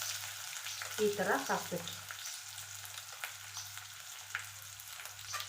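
Chopped large onion dropped into a hot pan for pav bhaji, giving a loud burst of frying sizzle that settles into steady crackling under a voice speaking.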